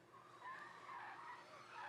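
Tires of a fresh Kia screech continuously as it drives into the gardens, a loud sustained squeal with engine noise rising and falling over about two seconds.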